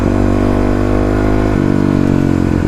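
A Kawasaki KLX motorcycle engine drones steadily while riding on the highway, a loud, even mid-pitched hum with a slight shift in pitch partway through as the engine note changes.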